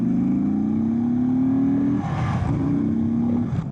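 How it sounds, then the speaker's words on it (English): A 2024 Indian Sport Chief motorcycle in stock form, ridden on the road, with a steady, loud engine drone rising in pitch under acceleration, a brief dip and rumble as throttle eases, then pulling up again. "This bike sounds so good, even stock"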